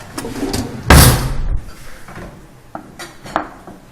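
Metal forks clink and rattle against dishes, one sharp loud clatter followed by a few lighter scattered taps and knocks.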